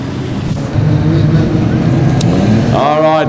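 Modified sedan race cars idle and rumble together at Kingaroy Speedway before a Golden Helmet Series A-Main, with a rising rev climbing in near the end over steady crowd and ambient noise.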